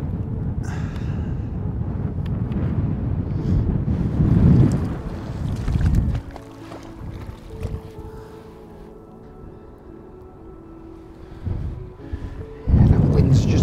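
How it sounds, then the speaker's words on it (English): Strong coastal wind at Wallasey buffets the microphone in heavy, roaring gusts, easing for a few seconds before rushing back loudly. "The wind's just a tiny bit too strong."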